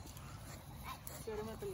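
Puppies and their mother dog in a cage, with brief high whimpers and yips in the second half, faint under a busy background and voices nearby.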